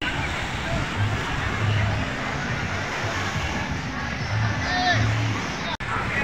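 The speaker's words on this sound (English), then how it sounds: "Yes, this is Rowan Beach in Opol," Steady wash of waves at Rowan Beach in Opol, Misamis Oriental, on a Sunday, mixed with a constant murmur of a crowd and voices talking throughout.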